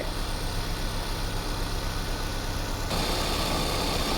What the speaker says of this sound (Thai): เสียงเครื่องยนต์